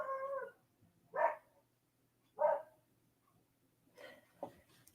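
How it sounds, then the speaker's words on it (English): Neighbors' dogs barking in the distance, faint and spaced out, with four separate short barks or yelps over a quiet background and no talking. "Dogs have been barking a lot today. The neighbors' dogs."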